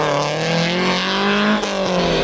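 Lotus Elan historic rally car driving hard on a rally stage, the engine loud and close with a sustained high rev that rises and dips slightly through a gear change.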